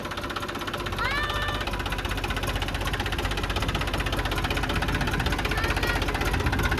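A tractor engine runs steadily at idle with a knocking, vibrating chug, moderately loud and continuous, with faint brief tones above it.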